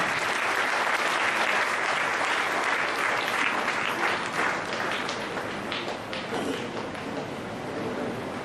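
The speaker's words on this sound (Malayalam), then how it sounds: "തിരുമേനിയെ ഈ സമയത്ത് കൈയടിച്ച് ആഹ്ലാദിക്കുന്നു." An audience at a church consecration and centenary celebration in Kolenchery applauds a bishop with steady, dense clapping that stays loud and even throughout, with no voices above it.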